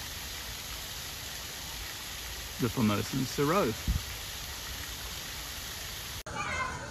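Waterfall in an animal enclosure at Taipei Zoo, a constant broadband rush of falling water, with someone speaking briefly over it.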